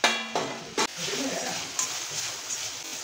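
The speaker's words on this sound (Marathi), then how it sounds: "व्यवस्थित आपण भाजी ढवळून घ्यायची" Moringa leaf bhaji stirred in a pot gives soft scraping and clinking of a spoon against the vessel under a faint sizzle. A voice talks briefly at the start.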